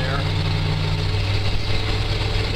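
A vehicle engine is running hot while driven in two-wheel drive on soft ground at Leadbetter Point, giving a steady, loud, close rumbling drone with low mechanical hum throughout.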